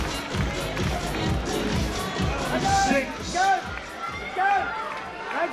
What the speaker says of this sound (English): The crowd absolutely out of their seats